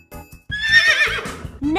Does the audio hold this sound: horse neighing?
yes